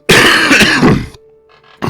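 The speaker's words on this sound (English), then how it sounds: "I've got a cough, and it's unpleasant, and it is probably a chest infection." One harsh, loud chesty cough from someone with a chest infection, a rough burst lasting about a second, then a short quiet pause before a second hack begins.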